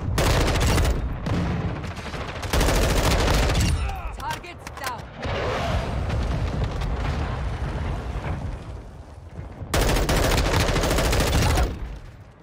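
An artillery fire mission strikes in Modern Warfare 2, loud dense blasts and rumbling detonations in heavy bursts with quieter stretches between, and a voice talks over parts of it.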